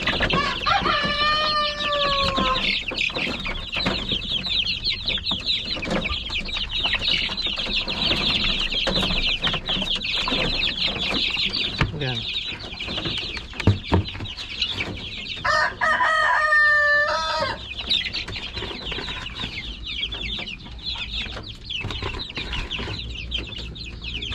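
Chickens clucking in a pen while pecking at azolla feed, with busy clucks and squawks close by, a couple of crows standing out, and pecking and rustling running throughout.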